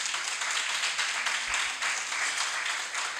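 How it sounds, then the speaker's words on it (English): Audience applause at a community mental health awareness event, a steady wash of many hands clapping at moderate distance, sustained evenly throughout with no speech over it. "She deserves a round of applause."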